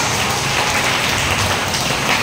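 A church congregation claps loudly during worship, a dense, continuous wash of many hands with no clear individual beats, filling the space evenly throughout.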